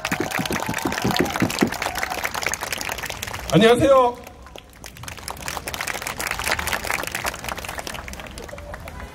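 Crowd applause and cheering at a labor union rally, a busy burst of clapping at the start, then a voice rises over a loud amplified tone before scattered clapping returns under a speaker's greeting.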